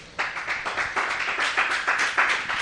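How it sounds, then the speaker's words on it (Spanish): A church congregation claps during a Spanish-language sermon, the hands falling into a fairly even, rhythmic beat that stays close and moderately loud for nearly three seconds after a sudden start. "Denle un fuerte aplauso al Señor."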